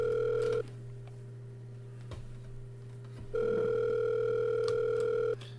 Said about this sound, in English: The dial tone rings on faintly.